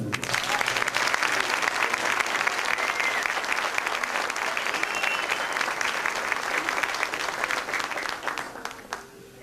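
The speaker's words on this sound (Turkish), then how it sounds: "güzel gecede bize eşlik eden konumuza eşlik eden sazları bir alkış alalım mı" An audience at an Atatürkçü Düşünce Derneği evening program applauds the accompanying saz musicians, dense, steady clapping filling the room at close range and tapering off near the end, with no talk.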